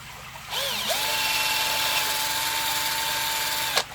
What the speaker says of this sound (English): now we've got to drill through the other side now.